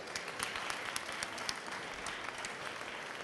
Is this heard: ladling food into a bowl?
no